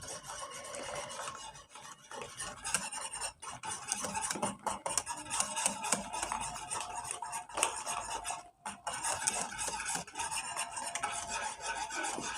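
A utensil is stirred and scraped in a pot as vanilla ice cream is mixed into boiled milk, giving a continuous close rasping and scraping with irregular strokes and brief pauses.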